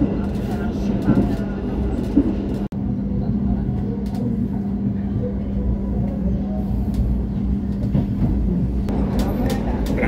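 The Argo Wilis passenger train pulling into Bandung station, a continuous low rumble and rolling drone of carriages with faint station noise and occasional clatter throughout.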